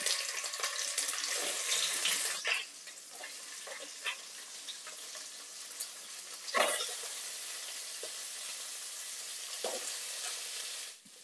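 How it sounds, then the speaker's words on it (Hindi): Prawns frying in hot oil in a pan give a steady, loud broadband sizzle with a few sharper crackles and pops; the hiss dips slightly midway, then carries on evenly until it cuts off. No voices. "अब हम प्रॉन को फ्राई कर लेते हैं।"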